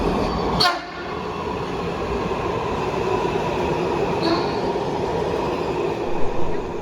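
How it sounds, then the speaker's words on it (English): A Washington DC Metro train rumbling steadily nearby, a continuous loud roar of wheels on rails with a brief squeal near the start. "What's this unusual train? It's the DC Metro Money Train"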